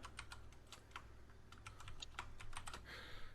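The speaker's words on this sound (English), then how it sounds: "I was typing what Adams was doing this week in the Word document that we keep as our thing" Steady, faint clicking of fingers typing on a computer keyboard into a word-processing document, heard close up at an irregular, busy pace with no voices over it.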